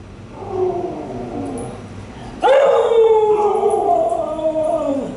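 Siberian huskies howl and sing close by, one starting with a wavering howl before a louder second howl joins at mid-clip, their pitches sliding and overlapping with whimpering yips.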